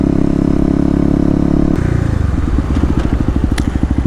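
A Kawasaki KLX250 motorcycle engine drones loudly and steadily in cold weather, then shifts to a lower, pulsing rumble as it changes speed, with faint clatter on top.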